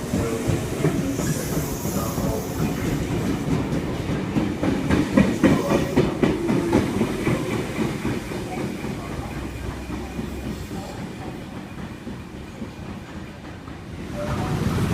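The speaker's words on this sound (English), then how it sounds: "We've got an S-set departing platform number 3." An eight-car Sydney Trains S-set pulls away from platform 3 at Lidcombe, a steady rumbling roll with rhythmic clickety-clack over the joints that fades gradually as it departs.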